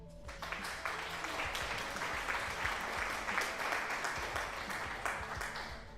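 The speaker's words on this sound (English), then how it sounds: "Some applause to Amari." Applause from a small crowd, a steady wash of clapping that carries on for several seconds at moderate volume.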